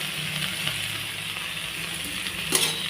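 Puti fish with crushed ginger and chopped tomato frying in a pan while being stirred, a continuous close sizzle with light scraping and a brief brighter clink near the end.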